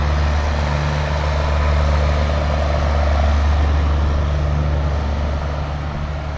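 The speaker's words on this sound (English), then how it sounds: "Just letting Mitch drive the tractor and do this stuff" A farm tractor's engine runs steadily and loud at close range, a low droning hum with a constant harmonic tone and no pauses, no talk over it.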